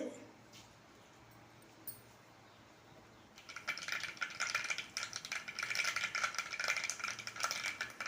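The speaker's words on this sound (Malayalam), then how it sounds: "കടുക് പൊട്ടി വരുമ്പോൾ" Mustard seeds splutter in hot coconut oil in a curry pan, starting quiet then bursting into dense, close crackling and popping that keeps going, with some talking.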